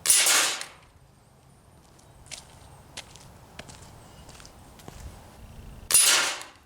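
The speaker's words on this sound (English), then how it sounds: "what it's really perfect for is shooting these 1/8 thick silhouette targets" Sharp metallic reports of a Barra Schofield No.3 CO2 BB revolver firing at 1/8-inch-thick steel silhouette targets: two loud shots, one at the start and one near the end, with faint ringing clinks and small handling noises between.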